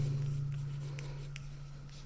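A pen writes on paper while a math problem on graphs is worked, giving faint, steady scratching strokes over a low background hum, with no talk.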